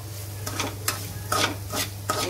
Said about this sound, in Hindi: अभी इसमें रवा डालूंगी, सूजी। इसको अच्छे से भूनना है